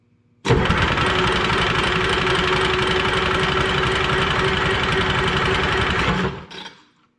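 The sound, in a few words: Detroit 353 engine running rough in a Lull machine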